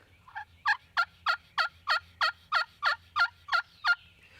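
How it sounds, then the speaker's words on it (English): A homemade white oak turkey call with a glass striking surface produces a series of about eleven evenly spaced, raspy yelps, clear and close against a quiet outdoor background. "It don't sound the greatest, but it makes a yelp."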